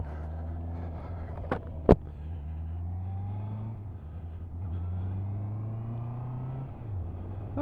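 A 2023 Honda CB650R Neo Sports Cafe motorcycle ridden hard, its engine holding a steady loud drone with rising and falling revs through gear changes, plus two sharp clicks early on, no talking.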